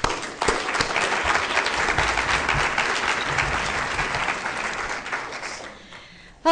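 A lecture audience breaks into sustained applause to welcome a speaker, dense, even clapping that starts abruptly, holds steady and then fades out toward the end.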